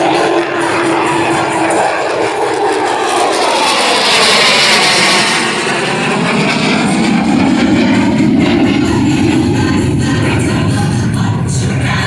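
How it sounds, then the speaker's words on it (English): An F-16 fighter jet roars past at an air show, a loud sustained jet thunder that swells and shifts pitch as it passes, with the sweeping whoosh continuing to the end. "let the F-16 do the talking right now because it is definitely going to"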